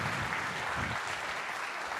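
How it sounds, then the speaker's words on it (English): An audience at a science talk gives a round of applause for Forrest Valkai, a dense, steady sheet of clapping that fills the short stretch evenly and fades slightly toward the end. "One more giant round of applause for the amazing Forrest Valkai"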